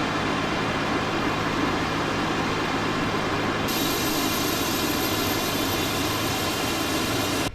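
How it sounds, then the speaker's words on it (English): An aircraft's number 2 engine spools up during startup in Microsoft Flight Simulator, a steady roaring rumble that gains a sustained high-pitched whine partway through and holds to the end, with no talking. "We'll start engine number 2 now."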